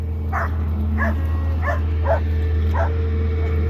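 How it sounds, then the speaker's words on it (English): A cattle dog barks five times in an even rhythm, fairly close, over a constant low engine-like hum. "The cows always hate the cattle dog."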